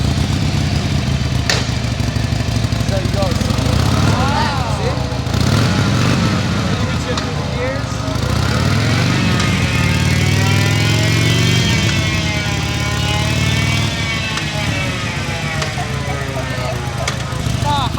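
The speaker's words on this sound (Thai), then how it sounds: "So you can turn the bike on, and it, it's like on a treadmill, so you don't go anywhere." A Harley-Davidson motorcycle runs in place on a treadmill-like training stand at a San Diego Harley shop, its engine rumbling steadily at close range while people talk over it.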